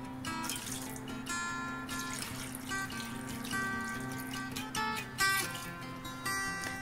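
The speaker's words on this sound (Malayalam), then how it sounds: "ഇതിലേക്ക് കുറച്ച് വെള്ളം കൂടി ചേർത്തിട്ട് ഇത് വേവിച്ചെടുക്കാം" Water is poured from a tap or jug into a pan of chilli beef, giving a steady close splashing and trickling stream that runs the whole time over a faint background hum.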